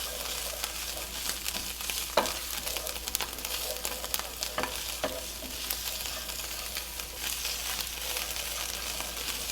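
Chicken pasta ingredients sizzle steadily in a hot pan while being stirred, a continuous close frying hiss with occasional scraping clicks from the utensil, no talking.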